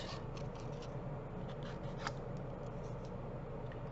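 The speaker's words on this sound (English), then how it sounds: "we're just going to fussy cut these out" Scissors snip around stamped paper greetings in a quiet, continuous run of soft, close cuts and paper rustling, faint and without talk.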